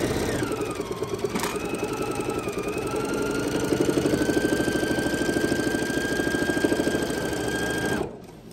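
A sewing machine stitches fabric binding in a fast, steady mechanical chatter, close and even, running for several seconds before stopping abruptly near the end, with no talk.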